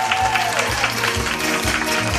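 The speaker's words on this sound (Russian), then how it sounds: "наша дальневосточница Лала Хопер, ваши аплодисменты!" An audience applauds hosts being introduced at a stage event, including a radio presenter. The clapping is a dense, continuous wash lasting the whole stretch, with a low, steady tonal backing underneath.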